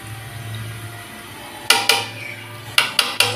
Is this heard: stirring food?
yes